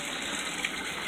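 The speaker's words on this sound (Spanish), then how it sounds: "Mira el modo de coger agua, son las 11 de la noche" Tap water gushes steadily and loudly into a container while drinking water is collected at night at a shelter in Mantilla, Havana, a continuous broadband rush with no talk.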